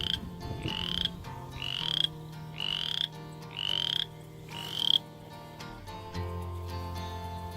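A tiny spring peeper frog gives a string of five or six close, high, rising peeps in steady rhythm, with faint background noise and no talk.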